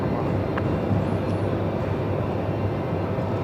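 Steady broadband jet roar from an aircraft departing on the cross runway at Melbourne Airport, heard from a distance as a constant rumble with no talk over it.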